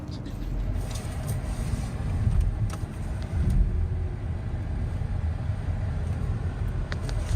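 Steady low engine rumble and road noise from inside a moving car, with the vehicle humming along continuously and a few faint clicks and bumps over the drone.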